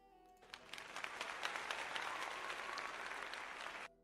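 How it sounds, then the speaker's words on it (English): A short round of applause, a crowd clapping steadily for a few seconds before stopping abruptly, fairly faint and alone. "round of applause."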